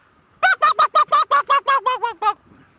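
A person's voice mimics a flock of birds calling, a rapid series of about eleven loud, honking, nasal yelps in even rhythm, alone and close.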